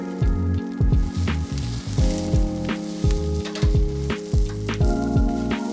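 Onions and peppers sizzle on a grill, a loud, steady hiss punctuated by repeated rhythmic scraping and clacking strokes, heard up close and alone.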